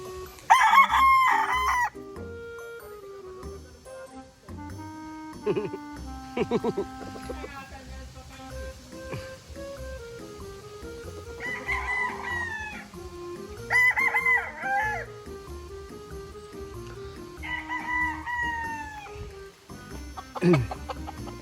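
Gamecock stags crowing repeatedly at an early bird stag derby, several long nearby crows overlapping with clucking and farm noise, someone talking at times.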